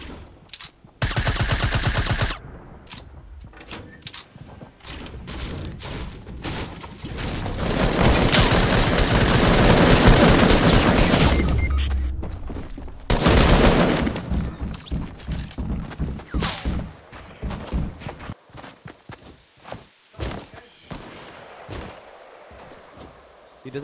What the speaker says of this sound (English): Oh no, they're shooting each other.